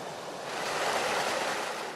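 Water pouring over the full width of a newly rebuilt mill dam sill, a steady broad rushing roar that swells slightly in the middle, close and continuous with no voices.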